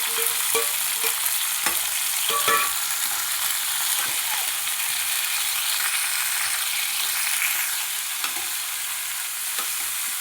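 Tomato, green chilli, ivy gourd and brinjal pieces frying in a pan, a bright continuous sizzle with occasional stirring clinks and scrapes, close and steady, easing slightly toward the end with no voices.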